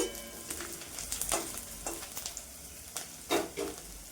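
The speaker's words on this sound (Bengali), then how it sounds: "পেঁয়াজটা আমি দু মিনিট ভেজে নিই হালকা লালচে করে" Onion frying lightly in a pan on a stovetop, a soft steady sizzle with small crackles and occasional stirring scrapes, faint and close, with no talking.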